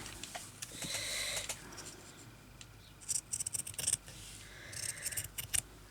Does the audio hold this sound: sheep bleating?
no